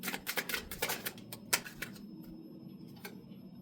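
Cards being shuffled and dealt from a deck during a spirit-guided card reading: a run of quick, crisp riffling clicks, loudest at the start, then a few sparse, soft card snaps trailing off into quiet.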